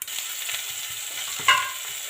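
Ginger and garlic hit a hot pan for a beef curry, giving a steady frying hiss with light stirring scrapes and a brief louder sizzle burst midway, close and with no talk.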